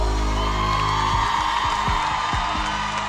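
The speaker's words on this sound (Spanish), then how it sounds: "Los aplausos" A live concert audience cheers, whoops and claps loudly and continuously for about three seconds, with a dense crowd roar filling the space and scattered shouts rising above it.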